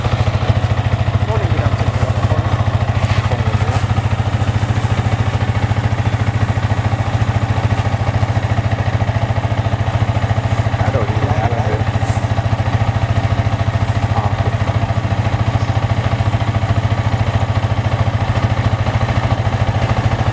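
A motorcycle fitted with a newly installed GPS tracker idles with a steady, continuous low engine drone for about twenty seconds, close by, with occasional faint voices in the background.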